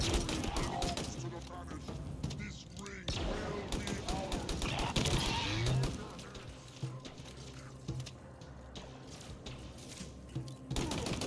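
Rapid bursts of Heatwave gun fire in the Halo video game, repeated crackling shots mixed with game effects and layered under ongoing talk between players.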